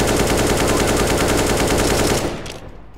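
Rapid sustained automatic gunfire in a video game as a player shoots at a wall, loud and dense for about two seconds before abruptly cutting off into a fading tail.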